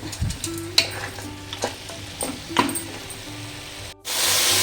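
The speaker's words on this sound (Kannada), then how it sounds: "ಒಂದು ಐದು ನಿಮಿಷನಾದರೂ ಮಟನ್ ಒಗ್ಗರಣೆನಲ್ಲಿ ಬಾಡಲೇಬೇಕು" Mutton sizzles and fries in hot tempering in a pan for mutton sambar, stirred with scattered scraping clicks, ending in a louder steady hiss.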